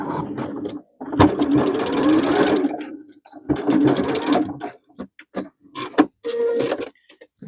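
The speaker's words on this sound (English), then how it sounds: "I'm just going to add a little bit more stitching to that side." A sewing machine runs in several close bursts while stitching along a seam, rapid mechanical chattering separated by short pauses and small clicks as the fabric is adjusted.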